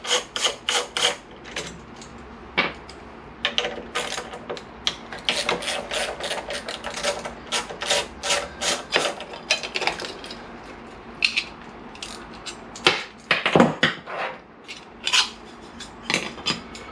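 A ratchet working loose the regulator rectifier on a Honda CBR600 F4i motorcycle, bursts of quick clicking in irregular runs with pauses, close and moderately loud, no talk.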